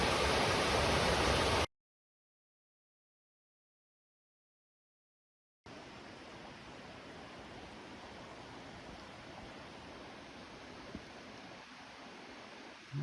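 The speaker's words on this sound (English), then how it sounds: "here's the waterfall we heard about" Steady broadband rush of a waterfall on a Dolly Sods hiking trail, a loud wash at the start, then a gap of silence, then a continuous even roar with no voices.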